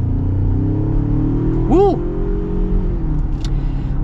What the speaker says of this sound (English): Now let's get an acceleration here with the Tremor.